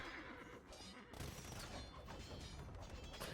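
Bombard cannons fire in an Age of Empires II battle, a dense, continuous wash of loud game combat noise with booming impacts and clatter throughout.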